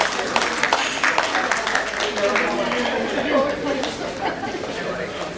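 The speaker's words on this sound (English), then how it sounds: "Let's give him a big round of applause." Audience at a medical conference awards ceremony breaking into applause, a crowd's clapping and chatter beneath a voice speaking over a loudspeaker.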